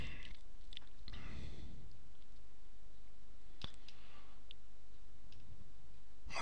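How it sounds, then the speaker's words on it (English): A computer mouse clicks a check-email button in CRM software: a few sharp, close clicks spread over several seconds against a quiet background. "So I click the check email button under received messages"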